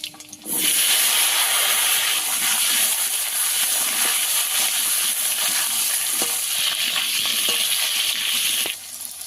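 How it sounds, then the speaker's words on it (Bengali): Cut potatoes and panch phoron spices drop into hot oil and burst into a loud, steady sizzle that starts abruptly, holds for about eight seconds and then cuts off. "দিয়ে দেবো পাঁচ ফোড়ন কেটে রাখা আলু"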